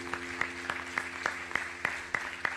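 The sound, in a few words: congregation applauding in church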